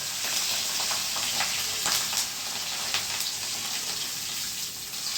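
Kachori deep-frying in hot oil, a steady broadband sizzle and bubbling that holds evenly throughout with occasional brief crackles, no voices.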